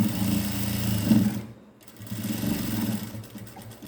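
A sewing machine runs steadily while stitching a hook strap, with a dense buzzing whir that stops for a moment partway through and then starts again.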